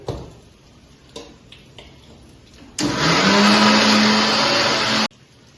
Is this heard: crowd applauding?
no